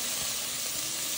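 Tomatoes and curry leaves sizzling in hot oil for a Tamil goat head curry, a steady, dense hiss of frying throughout, close and loud, with no talk.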